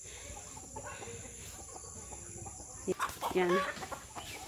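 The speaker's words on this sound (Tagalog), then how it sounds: "Marami siyang manok." Backyard chickens, laying hens kept at a rural provincial house, cluck softly through steady outdoor ambience, followed by a burst of louder clucking and calls near the end, with a brief spoken word over it.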